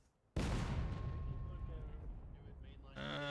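Artillery cannon in the Civil War game War of Rights, set on the Dunker Church map, fires one sudden loud boom that rolls into a long rumbling tail, with a voice speaking at the end.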